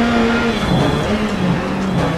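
A rally car on a gravel stage rally powers out of a 90-degree corner, its engine droning loud and steady close by with a rising tone, with a faint hiss of tyres and gravel underneath.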